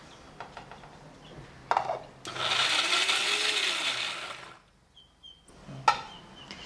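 A mixer grinder grinding mango whirs loudly for about two seconds in a steady high-pitched buzz, framed by clinks and knocks of the jar being handled.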